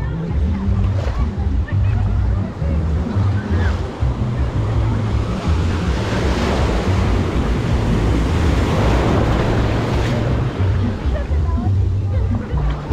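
Ocean waves wash continuously onto La División beach, a loud steady surf roar with rising swells and wind buffeting the microphone, while people talk over it.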